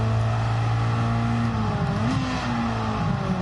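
Car engine in the Gran Turismo 7 racing game, a steady loud droning hum with a shift in pitch partway through, continuous throughout with no talking.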